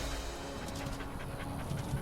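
Dog panting in the Dragon Age video game, a steady run of quick breathy huffs over a busy, continuous game soundscape with low rumbling background.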